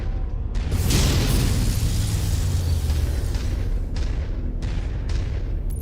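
Missile explosions boom in MechWarrior 5: Shadow of Kerensky, a loud, close blast that swells into a rumbling roar, followed by several sharper impacts over a sustained low rumble.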